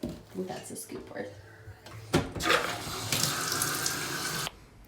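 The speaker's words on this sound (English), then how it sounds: "So I got the tub filling up with water" A kitchen tap runs water into a tub with a steady rushing gush, preceded by a few clunks and handling sounds, and a voice talks over the start.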